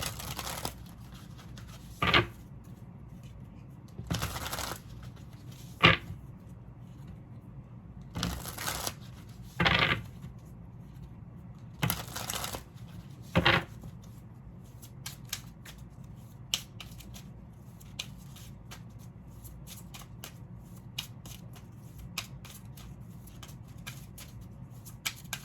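Oracle cards shuffled by hand: several short crisp riffling bursts spaced a few seconds apart, close and fairly quiet, then lighter scattered card taps and rustles against a quiet room.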